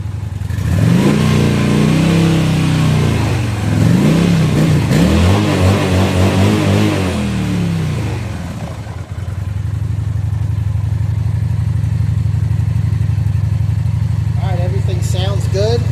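A 2017 Honda Phantom motorcycle engine, started after sitting in a barn, rising and falling through several loud close revs, then settling into a steady idle rumble.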